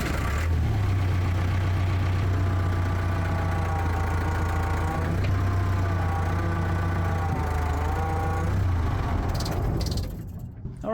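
A Case Poclain excavator's engine starts and settles into a loud, steady idle with a low mechanical drone and a faint whine, running close for about ten seconds before cutting off.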